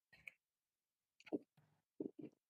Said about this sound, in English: so people don't have to listen to my typing